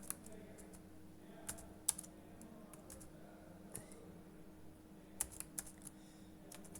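A name typed on a computer keyboard: scattered, uneven keystrokes, with a few sharper clacks standing out, faint and close in a quiet room with a low steady hum behind.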